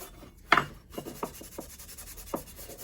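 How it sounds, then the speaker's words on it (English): A rusty steel cant hook is scuffed by hand with a Scotch-Brite pad and WD-40, giving a few short rubbing and rasping strokes, fairly close and quiet, with no voices. "scuffing it. Trying to get all that stuff off there with a little WD-40 and the old Scotch-Brite pad."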